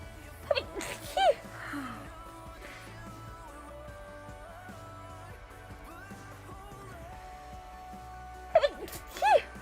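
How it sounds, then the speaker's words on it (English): Two sharp, loud sneezes from a person, one near the start and another near the end, standing out above quiet background music and game sounds while a player plays Minecraft Bedrock. "I'm going to sneeze again, I'm really sorry."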